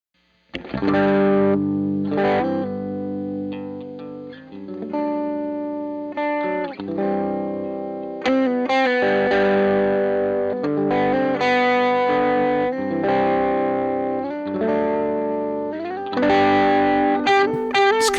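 An electric guitar through the SoundDrops Kent amp simulation in Nebula, thick and driven with a gritty saturated tone, playing sustained chords and phrases loudly and steadily with no talk.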